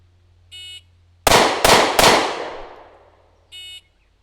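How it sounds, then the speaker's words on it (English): Three handgun shots fired in quick succession at a target, sharp loud cracks with a ringing decay, bracketed by short electronic beeps before and after. "Again, just pointing, not using the sights, and squeezing off three shots."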